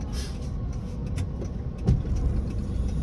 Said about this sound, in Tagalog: grabe ka traffic sa SM